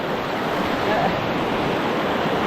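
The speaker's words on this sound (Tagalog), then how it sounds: "Napakalakas. Ang laki ng baha oh." Rushing floodwater at a riverside, a steady, loud broadband roar of churning water that holds constant throughout with no break.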